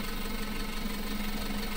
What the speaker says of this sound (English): Alright, looks like we are emptying out our combine.